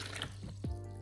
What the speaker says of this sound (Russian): я наливаю воду